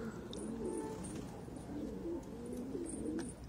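Pigeons coo steadily in a loft, several low throaty calls overlapping in a continuous murmur close by, with faint higher chirps and a brief airy sound above.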